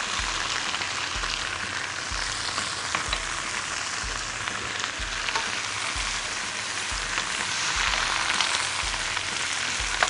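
Shredded cabbage stir-fries with fish sauce and a little sugar in a hot pan, a steady, even sizzle that goes on without a break, with faint regular low knocks underneath.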